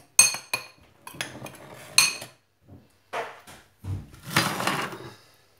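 Chocolate brownie mixture stirred in a bowl, giving a series of sharp clinks and scrapes of a utensil against the dish, irregular and close, with a longer scraping stir near the end and no talk.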